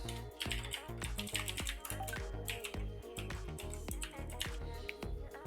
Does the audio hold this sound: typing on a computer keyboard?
yes